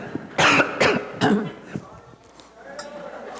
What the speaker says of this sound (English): You don't want to hear this cough